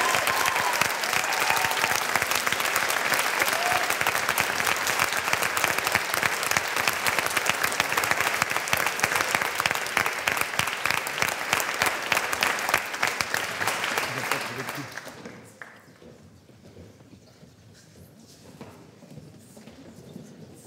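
Sustained audience applause at a debate championship final, loud and steady for about fifteen seconds, then fading quickly into quiet room noise with a few lingering claps.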